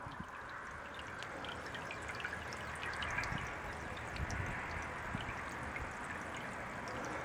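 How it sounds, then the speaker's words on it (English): Gentle continuous splashing and trickling of water from a solar-pumped bird fountain outdoors on a porch, steady and fairly soft with small drips scattered throughout. "I love these solar water pumps."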